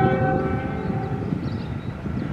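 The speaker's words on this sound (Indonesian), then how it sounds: "Kereta api tercepat di jalur utara Argo Bromo Anggrek sudah melintas di petak stasiun Kaliwedi" The Argo Bromo Anggrek express passenger train rumbles past close by near Kaliwedi station with a steady roar, and a horn-like tone fades out at the start.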